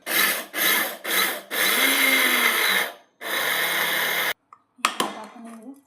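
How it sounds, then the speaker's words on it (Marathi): A kitchen mixer grinds khursani chutney in loud, steady bursts, switching on and off several times with short pauses, then a few clattering knocks at the end. "आता हे मिक्सरला फिरवून घेणार आहोत."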